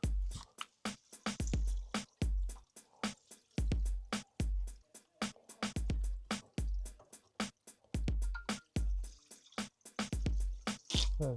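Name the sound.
water flushing Ideal Logic boiler through a hose pipe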